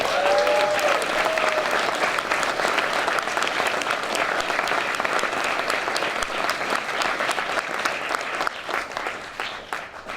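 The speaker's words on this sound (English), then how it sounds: "everybody give all the women who organized today's historic and monumental march a round of applause, please" Crowd at a women's march rally applauding the march organizers, a loud, dense, sustained ovation of many hands clapping together that keeps going for about ten seconds before easing slightly.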